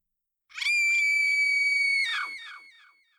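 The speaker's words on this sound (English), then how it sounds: "an agonized scream shatters my perfect world" A woman lets out a piercing, high-pitched scream of pain, held for over a second, then breaks into a shorter anguished cry that trails off.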